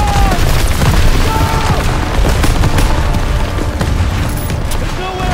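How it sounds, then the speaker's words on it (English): Artillery barrage explosions in a Call of Duty battle on Hill 493: a dense run of loud, close booms and rumbling blasts that overlap without a break, with shouted voices mixed in. "Artillery barrage!"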